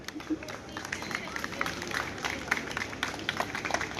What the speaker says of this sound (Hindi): जोरदार तालियां हमारे एसडीएम सर के लिए